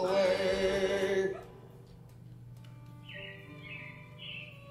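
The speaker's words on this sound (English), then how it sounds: "It looks like the Robins are getting ready to celebrate Valentine's Day today." Loud music fades out in Disney's Carousel of Progress show, then animatronic robins give a few short, fairly faint chirps over a low hum.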